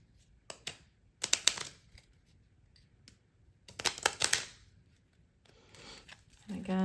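A Rider Waite tarot deck being riffle shuffled up close: two quick, crisp fluttering bursts of cards, each about half a second long, separated by quiet handling noises.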